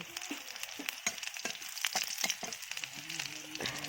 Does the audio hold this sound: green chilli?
yes